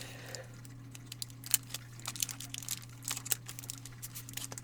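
Pokémon booster packs are torn open by hand, with close crinkling and ripping of foil wrappers in short irregular bursts over a steady low electrical hum.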